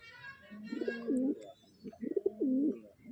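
Pigeons coo nearby in two soft, rolling phrases about a second apart, a low throaty warble against quiet surroundings.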